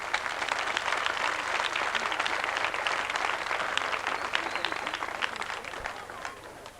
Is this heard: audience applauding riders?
yes